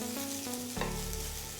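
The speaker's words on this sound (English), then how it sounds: "Let's throw in the vegetable first. There we go. I'm just gonna give this a good stir." Vegetables sizzle in oil in a wok for soy rice noodles, a close, quiet crackling hiss with a faint tonal hum running beneath it and a brief scrape of stirring.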